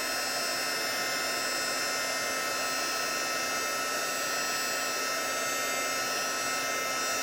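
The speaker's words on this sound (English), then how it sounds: "The heat gun's a little bit loud, and it's a lot hot" A heat gun blows steadily to melt embossing powder, giving a loud, constant broadband whoosh with a faint hum and no pauses or talking.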